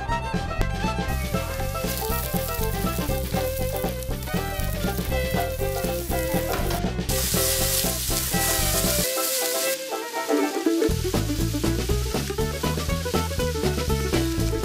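Chicken for adobo sautéing in a pan, a loud continuous sizzle and crackle of frying with stirring, under steady music.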